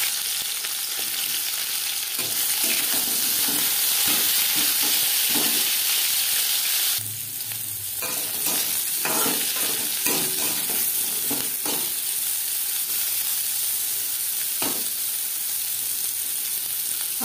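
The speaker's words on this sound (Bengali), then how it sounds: "অন্য একটি কড়াইতে উচ্ছে ও ডাঁটা ভেজে নেব।" Bitter gourd and drumsticks fry in refined oil in a wok with a steady, loud sizzle, interrupted by repeated stirring scrapes and a brief hiss when more vegetables go in partway through.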